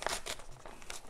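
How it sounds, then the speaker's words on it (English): Thin tearaway embroidery stabilizer being carefully torn off the back of an embroidered towel, a short close crinkling rip in a few quick pulls, fairly quiet. "So since we're using tearaway, okay, we could just tear this carefully, right?"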